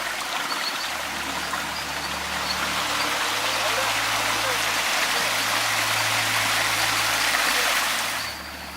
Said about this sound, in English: The water flowing through this gorge is used for human consumption.